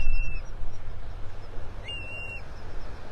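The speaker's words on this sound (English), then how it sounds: "The terns back there, the one squawking at the other one, the crested terns." Crested terns calling on a Gulf beach at Delnor-Wiggins in North Naples, Florida: two short, shrill squawks about a second apart, over a steady rumble of wind and surf.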